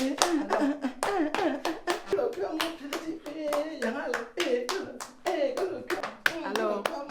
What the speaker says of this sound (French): Applaudis au moins pour la star